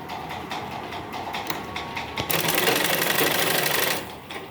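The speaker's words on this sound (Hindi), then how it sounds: "फिर इसको इस तरह से फोल्ड करके सिलाई लगानी है।" A sewing machine stitches a dhoti salwar seam, starting with quick rhythmic bursts of needle clatter, then settling into a louder continuous run of stitching before it stops near the end.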